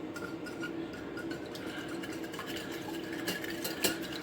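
Whisk stirring a sauce mixture with Worcester sauce in a bowl for Southern fried chicken, a steady scraping, clinking rhythm close by with no talk.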